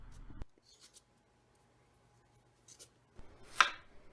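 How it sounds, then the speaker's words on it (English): A spoon scraping the skin off a piece of ginger: a few short, quiet scratching strokes separated by silence, with one louder scrape near the end, close and without talk. "I like to use a spoon to peel the ginger"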